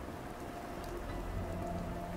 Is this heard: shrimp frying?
no